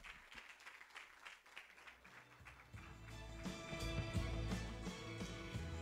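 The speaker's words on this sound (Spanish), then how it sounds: "El aplauso para nuestro galardonado." Applause at a sports awards gala for an honored athlete, starting faint and scattered, then swelling into fuller, louder clapping across the room.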